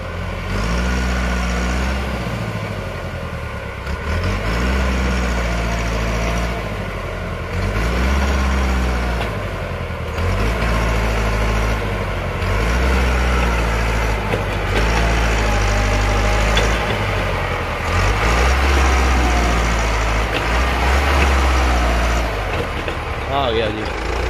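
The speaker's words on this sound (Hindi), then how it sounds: "लो जी आ गया ट्रैक्टर" Massey Ferguson tractors (MF 460 4x4 and 385) straining to pull a heavily loaded sugarcane trolley: a deep, steady diesel rumble with rhythmic surges in load, heard close while people talk over it.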